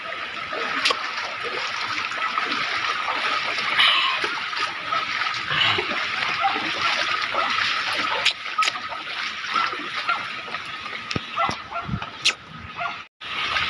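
Water trickles and splashes continuously in a steady outdoor wash of sound at a stone house, with a few sharp clicks and a dog barking faintly.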